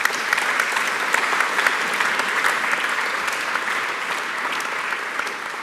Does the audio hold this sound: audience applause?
yes